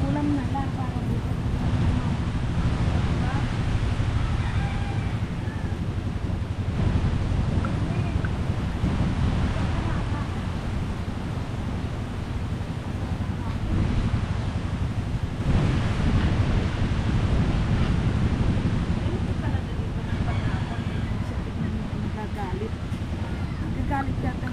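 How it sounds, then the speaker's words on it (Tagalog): Rough sea waves surge and break continuously, mixed with strong gusting wind that buffets the microphone, loud and steady for the whole stretch at a seaside spot by a hut where people are cooking vegetables. "Nagagalit yata yung dagat sa akin."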